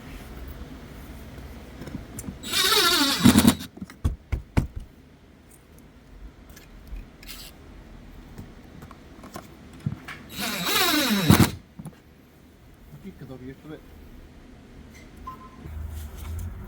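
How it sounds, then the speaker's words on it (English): A power screwdriver driving screws while installing tweeters in a 2022 Mercedes S580 S-Class interior, two whirring bursts of a few seconds each separated by quiet clicks and handling noises, close up. "let's put screws in here"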